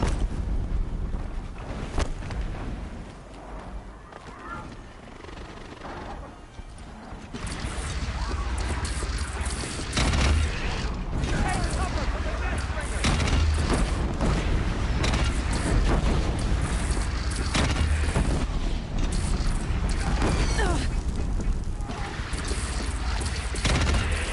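Missile explosions and combat in the Horizon Zero Dawn video game: a dense, continuous barrage of booms and crashing blasts with rumbling low end, loud throughout and swelling after the first few seconds.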